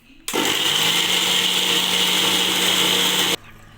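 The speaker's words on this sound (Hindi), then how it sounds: "बस अब हम इसे ग्राइंड कर देंगे।" Mixer grinder blitzing peanuts with salt and a little water for idli chutney; the motor starts abruptly, roars at a loud steady pitch for about three seconds close to the mic, then cuts off into near silence.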